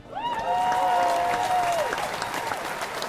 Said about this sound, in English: I love doing the applause, even though people think it's cheesy